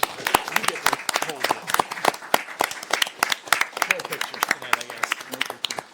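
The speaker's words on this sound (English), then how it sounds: "Let's give Neil a big round of applause." Audience at a mayor and council meeting applauding an honoree after a proclamation, with a dense burst of sharp individual claps from a modest crowd at close range, continuing for several seconds with some voices underneath.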